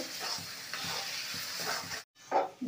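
A sweet-salty filling is stirred and dried in a pan, giving a soft, close sizzle with repeated rhythmic scraping strokes, a brief pause near the end, then more stirring.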